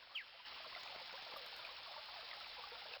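A small waterfall near a cliff overlooking a castle in the King's Quest I remake gives a faint, steady rush of falling water that continues evenly throughout.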